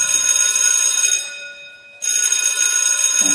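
A phone rings with a loud, steady electronic bell-like tone that stops briefly in the middle and then starts again, in a room during a Chhattisgarhi comedy scene.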